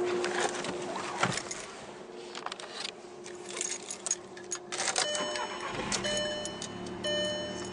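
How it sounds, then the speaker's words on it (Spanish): A Volkswagen Jetta is started, with clicks and a short cranking followed by the engine catching and settling into a steady idle. It is heard up close in a quiet setting without talk. "El vehículo enciende correctamente."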